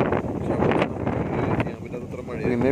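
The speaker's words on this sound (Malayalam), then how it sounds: "അത് കണ്ടില്ലേ, ഇപ്പോഴും ആ കാറ്റൊന്നും മാറിയിട്ടില്ല. അത്രയൊക്കെ കാറ്റാണ്," Strong wind gusts at the hilltop of Panchalimedu roar against the microphone in a loud, continuous rush, with a person talking over it throughout.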